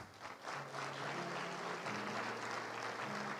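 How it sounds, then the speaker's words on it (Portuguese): Congregation applauding during a church service, steady broadband clapping filling the room under a sustained low musical tone. "Aplauda o nome do Senhor."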